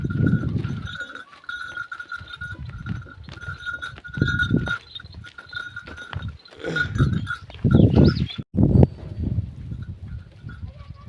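Cows and bulls tied in a shed low and call over a busy outdoor backdrop with a steady ringing tone, several deep moos rising and falling across the stretch.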